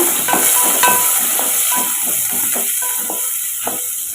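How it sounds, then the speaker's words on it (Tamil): Shallots sautéing with curry leaves and spice powder in a pan, a loud close hiss of frying with repeated sharp clatters of a spoon stirring at an irregular beat. "இப்போ ரெண்டு நிமிஷம் நம்ம வதக்கி விட்டுக்கோங்க"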